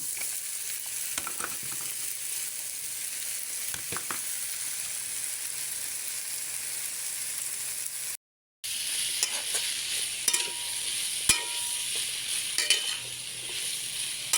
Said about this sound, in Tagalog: Hintayin natin na maluto din yung hotdog.